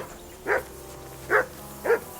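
Three sharp barks from a dog in Kingdom Come: Deliverance II, spaced unevenly over two seconds, moderately loud against quiet game ambience.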